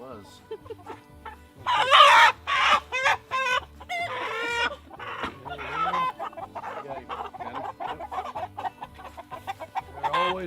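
Rooster and chickens on a farm during meat-bird processing, repeated clucks and squawks with crowing-like calls, near and fairly loud, with a steady low hum underneath and occasional talk.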